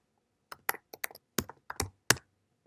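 Keystrokes clatter on a computer keyboard while typing out a source file at an IMSAI 8080-era terminal setup, about a dozen sharp clicks in uneven bursts, close and clear with no talking.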